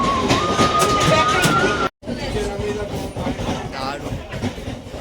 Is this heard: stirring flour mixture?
no